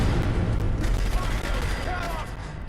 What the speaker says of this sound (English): all the time the turret firing upon me.